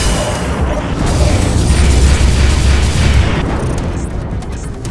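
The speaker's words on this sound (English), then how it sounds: "Detonation detected." An explosive device detonating inside a dock in a war game: a loud, sustained, deep rumbling boom that swells and then slowly fades.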